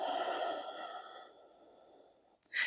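A long, soft exhalation during a yoga breathing exercise, a steady airy breath that slowly fades out before a brief sharper intake at the end.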